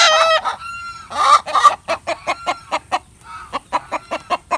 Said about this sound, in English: The hens are upset.